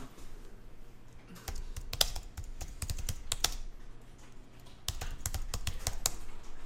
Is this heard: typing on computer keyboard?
yes